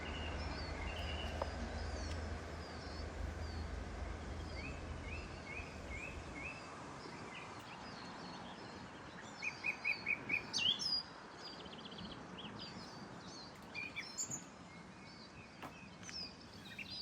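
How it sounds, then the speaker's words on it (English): Wild birds sing near the church at Glenfinnan in the Scottish Highlands, among ferns and wildflowers. Varied chirps, trills and one quick repeated phrase carry at moderate distance over a steady outdoor hiss, and no one speaks. "Enjoy the bird song."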